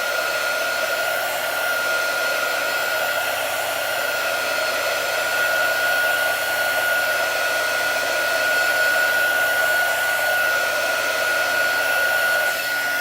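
A hair dryer blows steadily for the whole stretch, drying chalk paste on a painted sign, with a constant whirring drone and a strong steady tone, close and loud with no talking.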